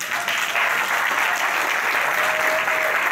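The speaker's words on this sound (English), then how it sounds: "Round of applause for our panelists." Steady, dense applause from a panel discussion audience thanking the panelists, loud and continuous throughout with a faint voice barely underneath.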